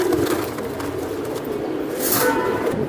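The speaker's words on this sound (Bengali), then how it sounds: "আমি একটা কবুতর ধরে দেখাই দিই দেখেন" Pakistani golden Giribaj racing pigeon cooing close by, a soft, steady low murmur running throughout with a brighter flutter near the end, and no one speaking.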